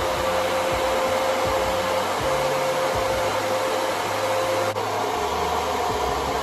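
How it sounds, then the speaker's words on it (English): Hair dryer fitted with a diffuser drying the roots of curly hair, a loud, steady, close whirring blow with an unchanging hum and faint shifts as the airflow moves. "use a diffuser in the roots to dry the root area."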